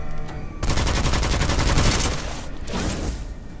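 The Midas gun firing in the video game Witchfire, a loud, dense burst of rapid automatic shots that runs for a couple of seconds, then a short pause and a second, weaker stretch of fire.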